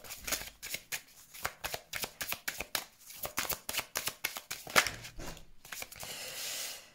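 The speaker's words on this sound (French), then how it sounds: "on tire quelques cartes du côté relationnel et sentimental pour voir" Tarot cards are shuffled and drawn in a steady run of crisp riffling snaps and slaps, close and fairly loud, ending in a longer rustling swish with no talking.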